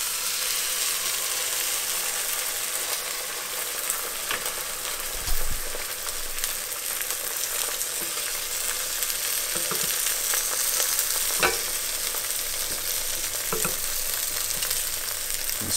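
Eggs dropped into kimchi frying in a pan, a steady crackling sizzle throughout with a few soft knocks and clatters of utensils against the pan.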